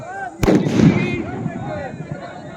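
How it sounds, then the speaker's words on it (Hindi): One sharp, loud firecracker bang simulating gunfire in a riot drill goes off, followed by a second burst and a rumbling echo that fades away, with faint voices in the background. "रेडी रहिए, फायर होगा, बजवाइएगा पटाखा।"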